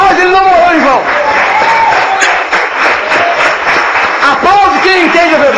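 A church congregation applauds during a sermon: a sustained, dense wash of clapping runs the whole time, with voices calling out loudly over it.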